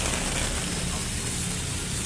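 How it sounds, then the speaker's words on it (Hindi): Heavy rain falls on a beach in the Maldives, a close, dense hiss and patter of drops that runs continuously with no clear talk. "बहुत ज़ोर से बारिश हुई है यहाँ पे"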